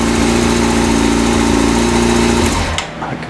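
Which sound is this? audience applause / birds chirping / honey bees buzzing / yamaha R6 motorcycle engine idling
yamaha R6 motorcycle engine idling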